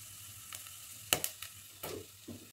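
Whole spices, cloves, cardamom and fennel, sizzle faintly in hot oil for mushroom pulao, with a few sharp clinks and stirring scrapes nearby.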